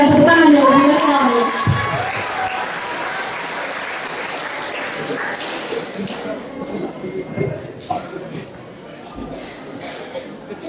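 School audience applauding after a presentation, loud clapping mixed with a voice at first, then thinning to scattered claps and murmuring with crowd movement.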